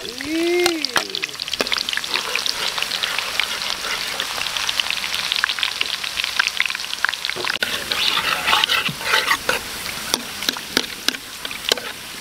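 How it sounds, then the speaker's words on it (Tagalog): Onions frying in oil in a pan, crackling and spitting continuously up close, with frequent scrapes and taps of a utensil against the pan and a brief squeaky sound near the start. "Fried sibuyas naman tayo."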